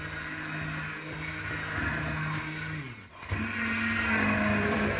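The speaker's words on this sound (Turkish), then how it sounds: "Blender yardımıyla tenceremizin içerisinde yer alan eriklerimizi pürüzsüz bir hale gelinceye kadar güzelce çekme işlemini gerçekleştirdik." A hand blender whirs in a pot of cooked plums, a steady motor whine that dips and cuts out briefly, then starts again at a slightly higher pitch, with no voices.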